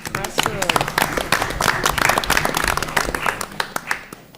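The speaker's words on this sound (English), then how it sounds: "so I'll give her a little round of applause" Scattered, close clapping from a small group at a school committee meeting, honouring a cross country division champion, with voices talking through the applause.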